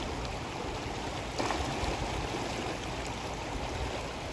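Water runs steadily along an old stream channel swollen with floodwater in rural Thailand, a constant close rushing and gurgling with no voices over it.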